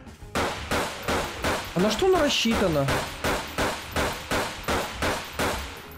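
Rapid regular gunshots from a DOOM weapon mod in Garry's Mod, about a dozen loud evenly spaced blasts fired one after another, with someone briefly talking over the shots in the middle.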